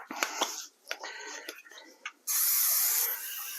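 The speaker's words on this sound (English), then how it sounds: "Now I'm going to spray this first." A short burst of aerosol cooking spray onto a slow cooker hisses for about a second after some light clicks and handling noises, close and fairly loud.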